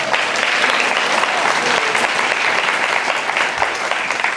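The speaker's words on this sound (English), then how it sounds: "one more round of applause" An audience at a guide dog graduation claps steadily, a dense, loud wash of applause that holds for several seconds without a break.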